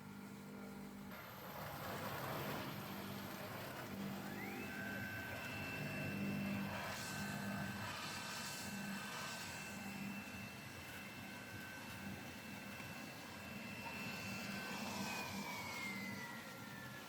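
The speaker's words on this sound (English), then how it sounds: "Turn on the okara stirring switch at the same time." Soya bean milk grinding machine with its okara stirring running, a continuous mechanical rumble and whir with a sustained tone rising in partway, steady and fairly close.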